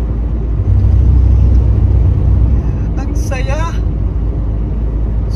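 Inside a newly bought car on the move, a steady low engine and road rumble fills the cabin, with a brief voice speaking over it partway through.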